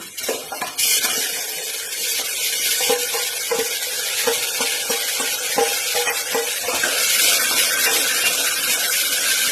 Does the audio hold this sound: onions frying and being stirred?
yes